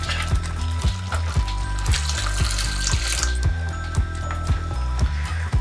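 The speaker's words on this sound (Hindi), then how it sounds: "अब इसमें हम डालेंगे थोड़ा सा पानी" Water pouring and splashing into a pan of paneer white gravy, steady and close, with light clinks and sizzling bubbling underneath.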